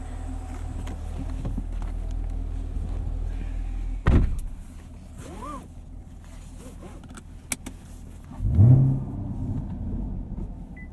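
A 2018 Chevrolet Camaro 2SS with a V8 and six-speed manual drives along, its low engine drone steady inside the cabin, with a brief thump near four seconds and a louder surge of rumble around eight and a half seconds.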